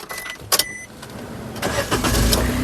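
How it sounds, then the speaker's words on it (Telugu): A 2020 Maruti Suzuki Wagon R LXI (O) hatchback starts on a single crank: a brief starter whir, then the engine catches and settles into a steady, fairly loud idle for the final second. "ఈ కార్ సింగిల్ సెల్ఫ్లో స్టార్ట్ అవుతుందా లేదా అన్న చూపిస్తున్నాను చూడొచ్చు"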